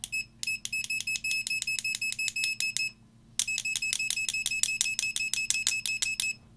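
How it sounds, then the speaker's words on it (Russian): Fluke 28 II multimeter sounding its continuity beeper in a rapid run of short, sharp electronic beeps, pausing briefly before a second burst, close and clear with no talking. "в этом режиме есть и звуковая прозвонка"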